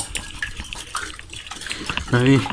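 Chicken being stirred with salt and white pepper, utensils scraping and clinking against a dish in a soft, uneven rhythm, close by, with a voice speaking briefly near the end.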